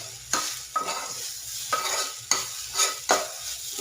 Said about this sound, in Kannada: ಸೌಂಡ್ ಬರ್ತಾಯಿದೆ ನೋಡಿರಿ, ರೊಟ್ಟಿ ಗರಮ್ ಆಗ್ತಾಯಿದೆ.